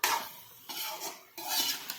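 Pumpkin tossed into a wok with pui xak greens for an Assamese fish dish, three bursts of bright scraping and sizzling as a utensil stirs against the pan, close and moderately loud.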